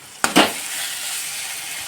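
Chopped onion and chili frying with red chili sauce in a pan for homemade Manchurian: a sharp utensil clack, then a steady, close sizzle with no talk.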